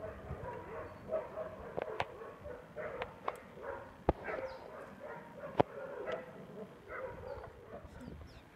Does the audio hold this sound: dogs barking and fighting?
yes